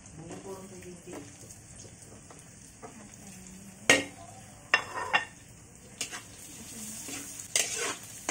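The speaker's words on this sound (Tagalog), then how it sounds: "So yan, gisain lang natin." Onion and tomato sautéing in oil in a pan, a soft steady sizzle with scraping stirs and a few sharp utensil knocks against the pan, close and clear.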